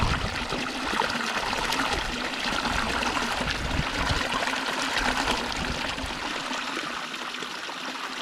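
Spring water flowing on a farm, a steady close trickling and gurgling rush of water that continues evenly throughout without any talking.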